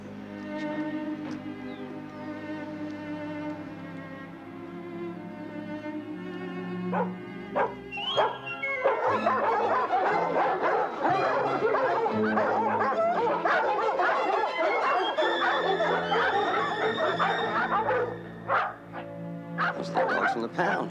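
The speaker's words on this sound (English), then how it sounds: "Those are the dogs from the pound." Several dogs at the pound bark, yip and whimper in a busy overlapping chorus, loud and close, with a dramatic television scene's music and voices mixed underneath.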